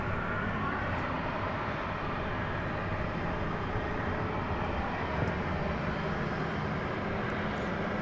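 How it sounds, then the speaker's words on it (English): An American Airlines Airbus A321neo at DFW Airport at night, its engines a broad, steady, distant roar that holds evenly throughout without talk. "This would be American Flight 1203. It's going to Phoenix, Arizona. It's an Airbus A321 of the Neo variety."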